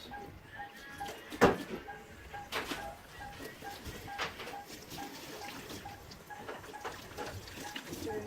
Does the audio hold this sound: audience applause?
no